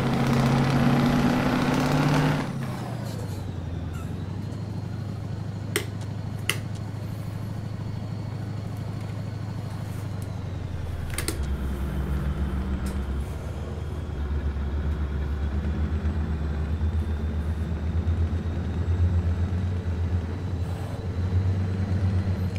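A car engine runs on a snowy road, loud and close at first, then dropping after a few seconds to a steady low drone with a few sharp clicks, and no talking.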